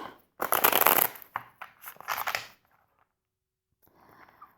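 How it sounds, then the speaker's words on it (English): Tarot cards are shuffled in a few quick riffling bursts, crisp and close, followed by a pause and a faint softer shuffle at the end. "I'm going to do a couple of shuffles like this."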